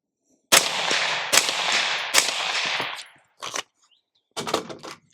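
A firearm fitted with a plan B suppressor mount fires three sharp, close, suppressed shots in quick succession, each trailing a short rolling echo, followed by two shorter, quieter bursts.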